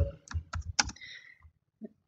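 A short run of computer keyboard keystrokes while HTML code is typed, a quick cluster of close clicks followed by a pause and one last tap.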